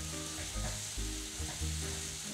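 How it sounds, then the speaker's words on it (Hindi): Onions roasting in a pan of hot oil give a loud, steady sizzle up close, broken by a few soft stirring scrapes and thumps. "अब हम अनियंस को थोड़ा सा रोस्ट होने देंगे।"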